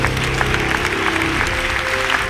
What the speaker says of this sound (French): Un applaudissement.